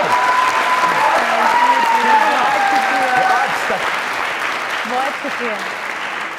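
A studio audience at a comedy talk show breaks into lively applause with a few tonal whoops over the clapping, while a voice briefly speaks over it before the clapping thins out.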